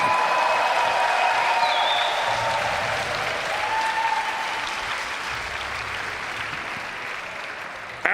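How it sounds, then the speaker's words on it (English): A crowd at a BMX final in Tallinn, Estonia, cheers and applauds a rider. The clapping is loud, sustained and steady, with whistles and shouts threaded through it, and it eases off slightly toward the end. "Make some noise for the San Diego rider, Parker Heath."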